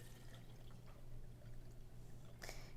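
Third wave water is poured into a coffee brewer, a soft continuous trickle with faint clinks and a brighter splash near the end, heard quietly with no speech.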